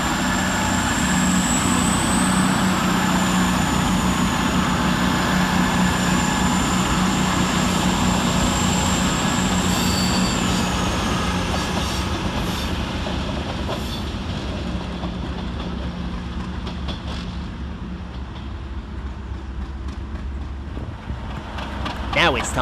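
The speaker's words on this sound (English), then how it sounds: "Next out to depart 9 minutes late is 221132, working the 1238 cross-country service from Manchester Piccadilly to Bournemouth" Class 221 Voyager diesel unit 221132 on a CrossCountry Manchester to Bournemouth service pulls out of Leamington Spa station, a steady loud engine drone and rumble that fades slowly as it departs, with a high whine early on.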